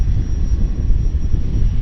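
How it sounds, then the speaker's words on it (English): A business jet approaches at Vancouver Airport in strong winds, its engine roar a loud, steady low rumble with wind noise and no break. "Here comes that BizJet"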